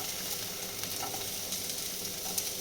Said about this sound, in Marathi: थोडंसं जिरं टाकते, एक तेजपत्ता टाकते, कांदा टाकून घेते।